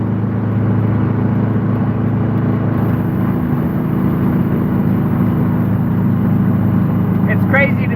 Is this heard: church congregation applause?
no